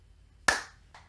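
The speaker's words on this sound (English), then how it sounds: "Then I'll give her a little clap, and we should have a finished fidget spinner board." A single sharp hand clap rings out close by in a quiet room, followed by a fainter second clap about half a second later, with no talking.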